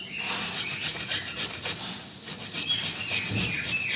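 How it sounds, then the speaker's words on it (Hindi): Fresh ginger rubbed against a small hand grater, a steady scratchy rasping in repeated back-and-forth strokes, close and clear. "बढ़िया सा मेरा अदरक घिस गया"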